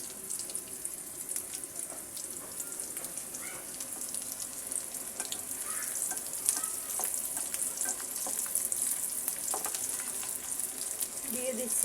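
Chopped onion and garlic fry in a pan for a bottle gourd dal, giving a dense, steady hiss that builds slightly toward the end, with faint clinks and soft scraping underneath.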